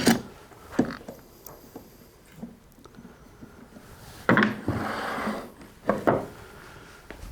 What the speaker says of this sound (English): the first thing I'm going to do is clamp that end block in place